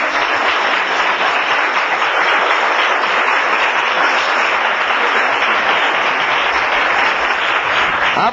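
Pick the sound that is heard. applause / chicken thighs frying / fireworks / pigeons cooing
applause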